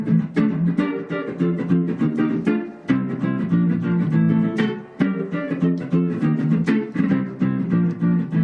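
A strummed guitar riff with a choppy, repeating rhythm that cycles in uneven seven-beat phrases, played steadily and close.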